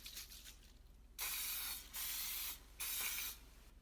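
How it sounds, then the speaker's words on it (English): Three separate bursts of cooking spray, olive oil or Pam, hiss onto baking pans, each lasting about half a second to a second with short pauses between, close and clear. "the next step is to spray the pans with some olive oil or some Pam"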